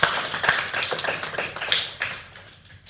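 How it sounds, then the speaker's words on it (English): Audience applause for librarians at a talk on preserving Namibian indigenous knowledge, a short burst of scattered clapping that thins out and fades within about three seconds. "So please give a round of applause to the librarians."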